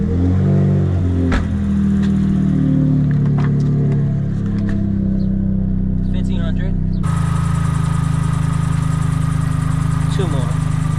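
A Suzuki Cappuccino engine with idle issues, after new air filter, cabin filter and plugs, running at a loud steady idle close by, with a brief sharper change partway through and a person talking over it.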